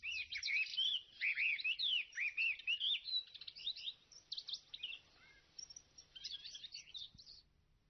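Calandra larks call after rain, a rapid run of bright, warbling chirps up close that thins into scattered notes before fading.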